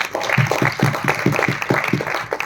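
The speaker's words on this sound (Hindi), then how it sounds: "आकाश जी के लिए जोरदार ताली बजाइए" An audience gives loud applause for Akash ji at a motivational success-talk event, with a short burst of rhythmic, fairly even clapping that sounds close and lively.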